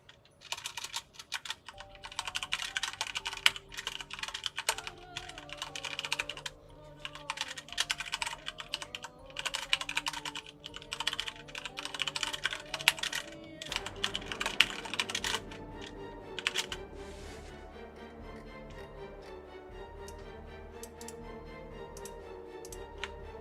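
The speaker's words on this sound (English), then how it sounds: "Like my mechanical keyboard." Fast, clicky keystrokes on a mechanical keyboard come in bursts and short runs, fairly quiet and close, with faint background music underneath.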